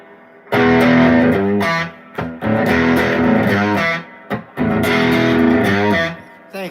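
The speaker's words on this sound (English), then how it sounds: "Yes, I have an analog delay on right now." An electric guitar plays through an amp with an analog delay effect, a distorted tone in loud sustained chord phrases broken by short gaps, with a delayed echo trailing each phrase.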